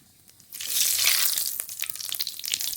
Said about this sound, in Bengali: ফোড়ন করে নেব সর্ষের তেল তেজপাতা গোটা জিরে ফোড়নে